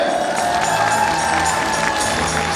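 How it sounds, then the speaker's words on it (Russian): Continuous crowd applause with cheering at a kindergarten children's performance, a dense steady wash of clapping from many people filling a hall. "Аплодисменты, дорогие!"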